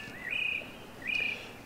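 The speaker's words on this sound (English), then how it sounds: "savour the sounds of the birds and that when you're down here" By Derwentwater lake on a calm day, a small bird gives two short, thin chirping calls in quick succession, faint and a little distant over quiet background air.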